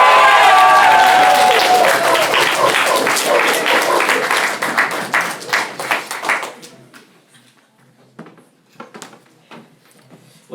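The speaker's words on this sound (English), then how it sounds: "Give it up for Pranit!" A crowd applauds a stand-up comedian taking the stage at a campus show at Cal, with loud, dense clapping that gradually thins into a few scattered claps and then near silence.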